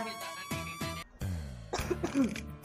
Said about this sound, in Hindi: बेटा आपको खांसी है